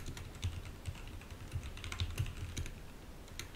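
Rapid clicks of typing on a computer keyboard, a steady patter of keystrokes with a few louder taps, close and alone with no talking.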